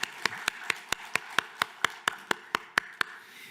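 A single pair of hands clapping in a steady, evenly spaced rhythm inside a church during a Sunday service, about fourteen sharp, close claps with no talking.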